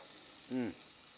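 Jerk fish fried in a pan and flipped with two spatulas gives a brief soft sizzle that swells and fades over a steady frying hiss.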